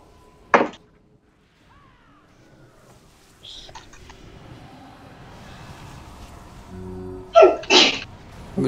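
A single sharp sneeze bursts out close and loud early on, followed by quieter background voice chat and a couple of louder clattering hits near the end.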